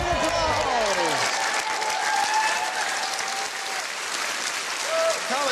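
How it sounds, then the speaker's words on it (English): A TV dating-show studio audience on Take Me Out bursts into loud, sustained applause with sweeping musical stings and tones layered over the clapping, close and full throughout. "Give her a round of applause."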